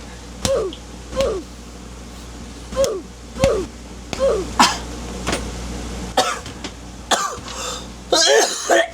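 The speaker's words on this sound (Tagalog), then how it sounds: "bumalik yung ubo ko dun ah" A man coughs repeatedly in short, harsh bursts spaced about a second apart, with throat clearing and a few louder, rougher coughs toward the end, close to the microphone.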